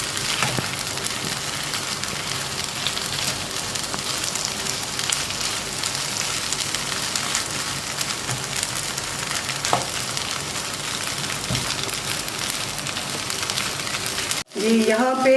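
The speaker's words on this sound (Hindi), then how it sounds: "आलू को घी में भूनते हुए ये देखिए कितना इसने घी छोड़ दिया" Potatoes fry in ghee inside a non-stick pan, giving a steady, close sizzle with faint scraping as they are stirred, and a brief clatter near the end.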